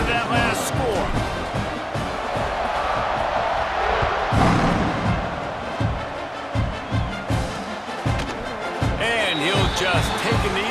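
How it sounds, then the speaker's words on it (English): A college football stadium crowd at Golden Flashes vs OU buzzes after a score, a loud, swelling roar with shouts and thumping beats, heard beneath a commentator's ongoing play-by-play. "this crowd is buzzing after that last score."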